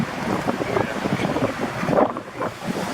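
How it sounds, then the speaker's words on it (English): Strong wind outdoors buffeting the microphone, a steady rough roar with gusty swells that peak around the middle, close and loud. "It's very windy"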